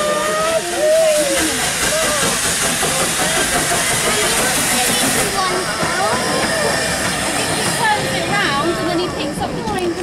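Steam train at a level crossing gives off a loud, continuous hiss of steam with rail and engine noise close by, while people chat over it throughout.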